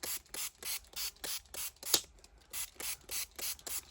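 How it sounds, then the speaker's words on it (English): A water spray bottle mists in a quick, regular series of short bursts, about a dozen sprays in four seconds, close and fairly quiet with no talking. "And then I've got my water spray as well."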